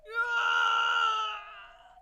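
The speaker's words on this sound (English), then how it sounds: "They could hear the man's scream coming from the back room of the restaurant." A man's drawn-out scream, voiced and harmonic, rising sharply and then sustained before tapering off, comes from a restaurant's back room in a video game scene; a single loud cry lasting about two seconds, heard alone.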